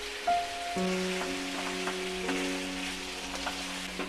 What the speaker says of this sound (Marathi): त्या मस्क्यामध्ये ना त्याला एकदम फ्राय करून घ्यायचं चांगलं चिकनला।